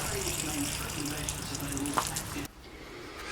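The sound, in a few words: water draining from a motorhome waste tank drain tap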